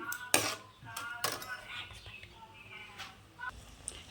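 Chicken is stirred in a metal pan on a stove over medium heat. A spoon gives a few sharp scrapes and clinks against the pan at irregular intervals, and quiet kitchen noise fills the gaps.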